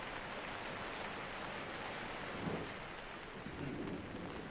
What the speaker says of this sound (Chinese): 下雨了，突然就下雨了。